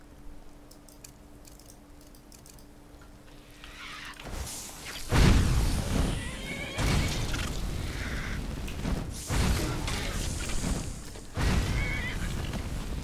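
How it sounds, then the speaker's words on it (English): A horse whinnies in The Elder Scrolls V: Skyrim amid clattering hoofbeats and loud bursts of noise, fairly close, with no talking. "That was not a good noise for a horse to make."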